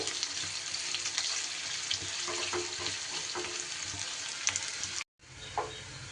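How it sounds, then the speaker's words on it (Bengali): Two large chopped onions fry in oil over high to medium heat with a dense, steady sizzle and soft stirring scrapes, close by, briefly cutting out before the frying resumes. "খুব ভালো করে পেঁয়াজটা আমার ফ্রাই করে নিতে হবে"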